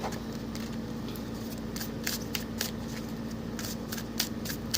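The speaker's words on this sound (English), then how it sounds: "So Scorpio, we're going to shuffle a bit more." Quick riffling bursts of cards being shuffled, close and fairly quiet, repeated in short clusters with no talking.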